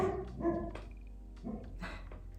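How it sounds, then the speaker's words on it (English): A dog barks a few times at a distance, soft and intermittent over a low background hum. "It's my dog."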